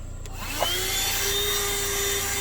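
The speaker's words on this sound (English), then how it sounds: "push it this way, you got a vacuum cleaner" BEAUTYBABY 12-volt car vacuum cleaner and tire inflator running in vacuum mode, a steady close whine with a pitch that rises and settles just after start-up, then holds constant with no talk.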